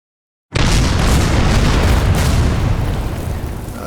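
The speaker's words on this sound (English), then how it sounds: "our cruiser can and is in range to bombard this anti-tank gun, or correction, the 105mm howitzer" A naval cruiser's shelling strikes a 105mm howitzer in the World War II strategy game Order of Battle: a single loud, deep boom bursts in after half a second of silence, then a long rumbling roar that slowly fades.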